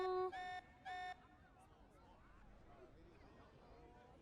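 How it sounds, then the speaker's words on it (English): An alarm at a summer camp colony sounds two steady, tonal beeps close by, followed by a quieter stretch of shifting electronic warbling tones against a low background hum. "This alarm's worrying."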